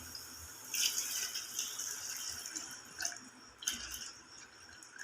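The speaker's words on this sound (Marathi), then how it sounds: "आता आपण पाणी टाकून घेऊया." Water is poured into a pan of Maharashtrian-style egg curry, producing a close, splashing, trickling rush with a few sharper drips and splashes standing out from the flow.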